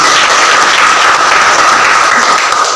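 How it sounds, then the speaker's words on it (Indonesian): Students in a classroom give themselves a round of applause, loud, close and continuous clapping from many hands that fills the whole stretch. "Oke, tepuk tangan untuk kalian."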